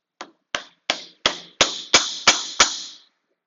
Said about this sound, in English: My rawhide mallet, again, using the cup center.